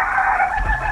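Brief, loud, close chicken clucking and squawking in a GTA roleplay game, a single strained call holding for about a second.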